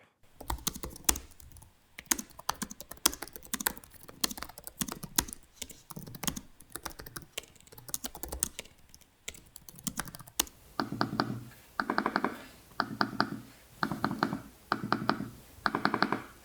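Steady Asus Zenbook S14 laptop keyboard typing in quick soft bursts, followed by quieter rhythmic tapping on its trackpad, close up with no talking.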